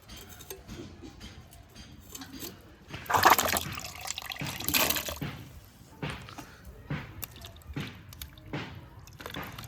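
Cut vegetables, including potato and bitter gourd, being washed in water in a bowl, with close splashing, dripping and squelching handling in irregular bursts.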